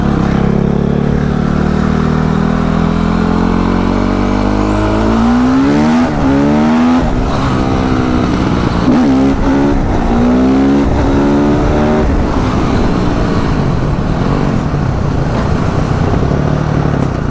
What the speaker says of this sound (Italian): Quella moto qua ragazzi, come ben sapete, essendo un CRF 450 cross